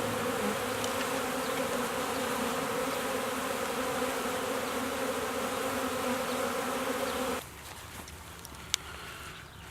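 A dense, steady hum of newly installed package honeybees buzzes close by for several seconds, then drops suddenly to a fainter drone with a few scattered individual bees.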